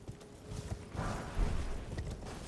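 Hooves of Torrent, the spirit horse in Elden Ring, clip-clop in a soft, uneven patter with faint creaks, close and alone with no talking.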